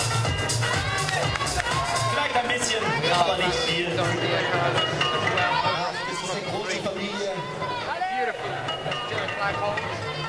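Spectators at a bouldering World Cup in Munich make a steady roar of cheering and chatter, loud and continuous for about ten seconds, with whistles and shouts rising through it.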